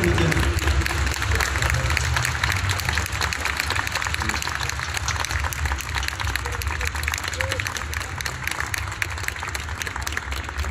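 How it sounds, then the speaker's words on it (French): Audience applause after a live drawing session at a conference, dense continuous clapping from a crowd that stays loud and even throughout. "je pense qu'on peut vraiment tous les applaudir"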